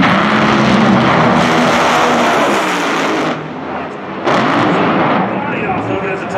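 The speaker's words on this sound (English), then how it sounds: "It's like the whole front of the car just disintegrated down there." An NHRA Top Fuel dragster crashes at the Midwest Nationals, its front body disintegrating; a loud, sustained engine roar and racetrack rumble fill the scene, dropping briefly before surging again, with a voice talking over it.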